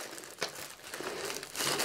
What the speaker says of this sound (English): And then I just slide the plastic bag